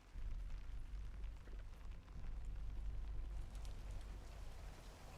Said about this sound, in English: Ooh, rain.